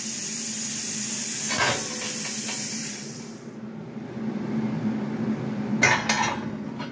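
Everlast Power Plasma 82i CNC plasma cutter slicing metal at 100 inches a minute, a steady close hissing roar that cuts off midway, followed by a faint hum and brief clanks.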